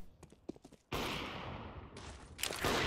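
A sharp, loud AWP sniper rifle blast from CS:GO bursts out after faint clicks and rings on, with further crisp gunshot cracks close behind.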